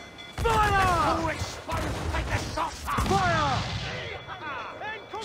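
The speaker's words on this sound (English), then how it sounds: "We have a mortar now." Ship mortar shots in Assassin's Creed IV: Black Flag, a few heavy booming blasts with crackling impacts, loud and close, mixed with shouting voices.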